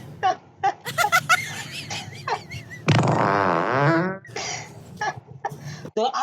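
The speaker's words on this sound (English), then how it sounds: "why you farting when I'm eating?" A long, loud, buzzy fart rumbles for over a second during a public prank in South Africa, framed by voices, giggles and coughs nearby.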